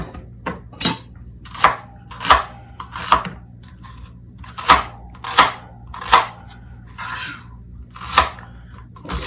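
A knife chops sweet onion into half-inch pieces on a board, with about a dozen sharp, evenly spaced strikes landing in a steady rhythm, close and clear, with no talking.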